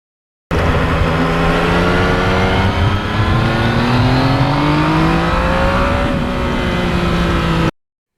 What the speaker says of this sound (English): I have never gotten sick of just going through the gears on this bike.